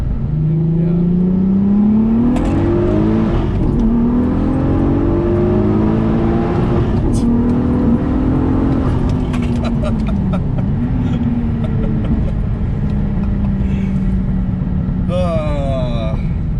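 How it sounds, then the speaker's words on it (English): A 700-horsepower Audi TT with a turbocharged VR6 engine, built by HPA Motorsports, revs hard and loud up close, its pitch rising and falling through repeated throttle blips, while voices can be heard around it. "I always forget how great these engines sound"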